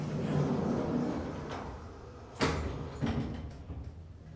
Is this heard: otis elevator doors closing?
yes